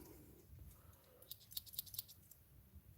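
Quiet, crisp snipping clicks from a small pair of scissors on a pocket tool, several quick cuts close together against a low background hum.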